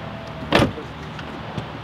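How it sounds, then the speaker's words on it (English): A Rolls-Royce door closes on its own with a brief motorized whir ending in a solid, muffled thud, followed by a lighter click, close by in a quiet interior. "They don't understand the doors even shut themselves"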